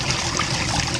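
Swimming pool filter backwash water rushes and flushes down a drain in a steady, dense, close-up gush with no talking.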